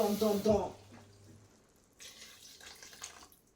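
Water poured into a pot while cooking Nigerian egusi soup, a soft splashing pour starting about two seconds in, close and fairly faint, after a woman's brief speech.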